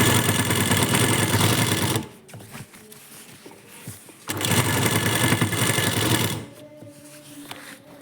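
A sewing machine stitches sleeves onto a churidar in two loud, steady bursts of whirring, the first about two seconds and the second about two and a half, separated by quieter handling noises with no talk.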